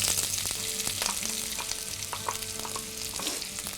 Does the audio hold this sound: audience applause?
no